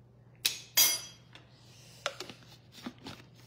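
A spoonful of fibre powder going into a glass of water: a sharp clink of the spoon against the glass, a second ringing knock, then several lighter taps and scrapes, close and fairly quiet.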